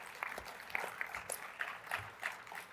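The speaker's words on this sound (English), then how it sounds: "give yourselves a round of applause for that" Faint scattered clapping from a convention audience, thin and somewhat distant, with individual claps standing out in an uneven rhythm.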